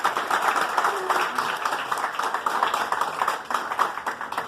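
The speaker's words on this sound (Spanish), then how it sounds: "Démosle otra vez un caluroso aplauso" Audience at a meeting with a federal delegate about irregular human settlements claps warmly, a busy continuous patter of hands with some murmuring mixed in.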